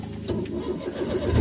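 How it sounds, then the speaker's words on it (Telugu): A car engine idles and then revs gently while the driver practises on narrow lane roads, a close, low, steady hum that grows louder toward the end. "కొద్దిగా రేజ్ ఇవ్వండి."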